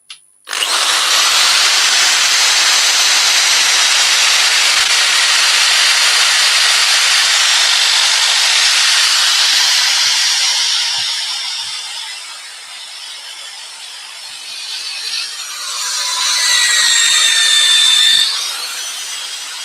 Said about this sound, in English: I'm going to give the black a sanding off.